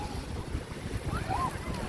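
Sea waves surging into an estuary at a beach in Bocana El Zapote, a continuous rushing wash with heavy wind noise on the microphone and faint whistling above it.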